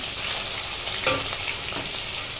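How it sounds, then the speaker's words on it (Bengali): Bone-in chicken pieces fry slowly over low heat in a pan, giving a dense, continuous sizzle with a brief clatter near the middle. No one speaks. "জাল কমায় দিয়ে ভাজতে হবে, নাহলে পুড়ে যাবে তো।"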